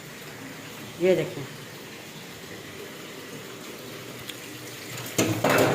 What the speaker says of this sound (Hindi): ये देखिए पानी की आवाज़ बता रही है, पानी आ चुका है।